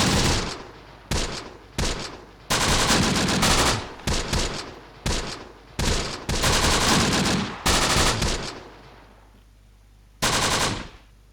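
Machine gun bursts in the Close Combat: The Bloody First game, a series of loud, broadband rattling bursts of varying length separated by brief pauses, with one last short burst after a quieter gap.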